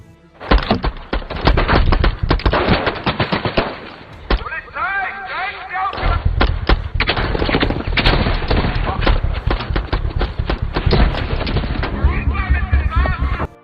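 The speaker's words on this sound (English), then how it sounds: "So a shootout ensued." Heavy gunfire in a police shootout, with dense bursts of shots and booming blasts filling the scene almost continuously, loud and close, over a music or score bed with voices underneath.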